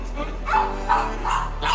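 A small dog barks and yips several times in short bursts, close by and fairly loud, with whimpering tones between the barks.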